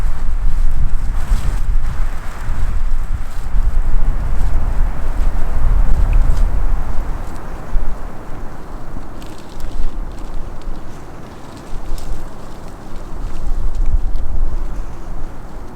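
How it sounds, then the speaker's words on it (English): Strong wind sweeps across a hillside glassing spot on a spring bear hunt, a steady low roar that buffets the microphone for the whole stretch, with no clear talk. "It's windy as all get out."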